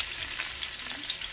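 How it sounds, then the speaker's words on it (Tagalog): Seven garlic cloves frying in a hot pan for a bitter gourd omelette, giving a steady, close, loud sizzle with no voice over it. "mainit na yung kawali, ilagay na natin yung garlic"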